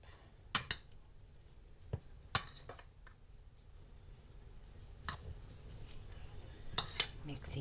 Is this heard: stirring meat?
yes